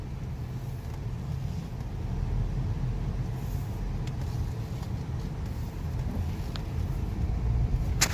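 A 2015 Honda Civic driving, heard from inside the cabin as a steady low engine and road rumble with a few faint ticks, no voices.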